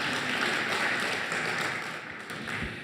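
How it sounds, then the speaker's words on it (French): An audience claps steadily through a short stretch at a French business talk, a dense even patter that eases a little near the end. "Merci pour vos applaudissements."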